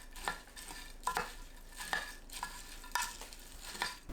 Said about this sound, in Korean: 통에 보리새우, 미림 3큰술 넣고 섞어주세요.